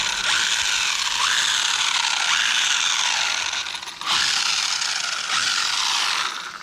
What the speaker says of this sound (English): but that is a very loud drivetrain.